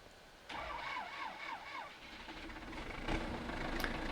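A vehicle engine in Farming Simulator 17 cranks with a short warbling starter whine, then catches and settles into a low idle that swells briefly into a light rev near the end, with no one talking.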